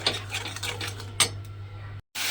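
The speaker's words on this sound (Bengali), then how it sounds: "এবারে গুঁড়ো মশলাগুলো দিয়ে আমি আবারও খুব ভালোভাবে কষিয়ে নেব।" Ground spices being sautéed in a pan for Bengali katla fish curry, with a spatula scraping and clinking against the metal pan over a low steady hum, close and moderate, ending in a brief cut.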